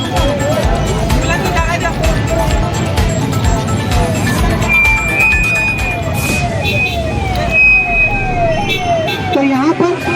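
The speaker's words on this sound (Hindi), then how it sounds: "भाई इसको जगह दो, एम्बुलेंस को जगह दो भाई।" An ambulance siren wails, sweeping up and down over busy traffic noise and protest crowd chatter, loud and close, with shifting tones through the whole stretch.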